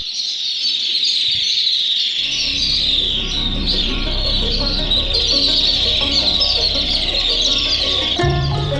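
Swifts at Mehrangarh fort in the Thar Desert: a flock's constant shrill, high chirping and screeching fills the air, joined after a couple of seconds by a low rumbling background that lasts to the end.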